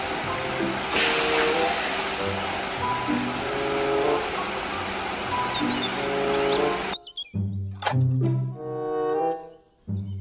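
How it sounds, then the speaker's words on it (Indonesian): Toy cement mixer truck buzzing and whirring steadily at close range with a hissy, whistling texture, cutting off after several seconds into short tonal beeps and jingles. "Mobil truk molen."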